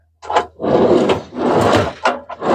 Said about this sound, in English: Some nice heavy-duty slide-out drawers there